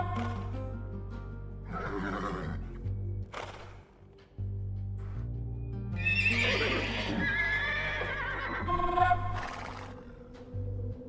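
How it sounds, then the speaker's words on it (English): Several horses neigh and whinny in a paddock in the Dynasty Warriors-style Three Kingdoms strategy game, with a low steady music drone beneath and occasional hoof clops; the whinnies rise loudly toward the end. "Yuan Shao keeps many horses in this paddock."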